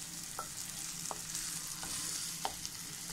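Chicken biryani mixture being stirred in a pan for a Thalassery-style chicken dum biryani, with a steady background sizzle and a few soft, scraping spoon strokes spaced about a second apart.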